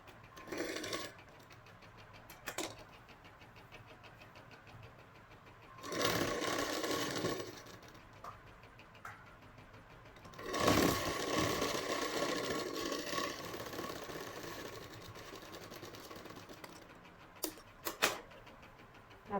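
A sewing machine stitching cloth, with quiet stretches between two longer bursts of fast, even mechanical whirring and a few short taps and clicks.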